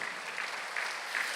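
Applause from a church congregation at a Sunday worship service, a steady soft wash of clapping heard at a distance throughout, fairly faint and even.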